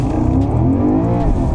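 A Porsche Panamera GTS, in sports mode with traction control off, launches hard off the line, its engine roaring loud and close with rising revs across a short burst.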